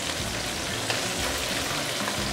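Pork ribs deep-fry in hot oil with a dense, steady sizzle and crackle that stays loud and constant throughout.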